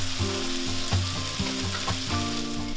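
Bacon fries in its own grease in a pan, a dense, steady close sizzle with popping crackles and light tonal clatter, and no one speaking.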